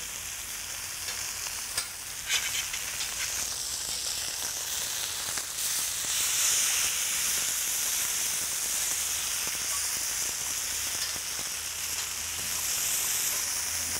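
Vegetables and mushrooms sizzle steadily on a hot iron griddle, with a constant bright frying hiss and occasional stirring clatter. No one speaks over it.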